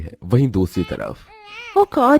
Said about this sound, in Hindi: ये बच्चा रो रहा है